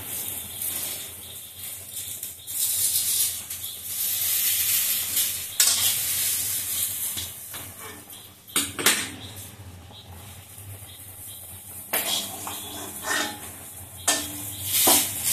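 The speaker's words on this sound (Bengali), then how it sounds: "এই দেখো বেগুন ভাজা" Steady oil sizzle of eggplant frying in a large wok, with intermittent scraping and stirring of a spatula against the pan, plus occasional clinks of utensils.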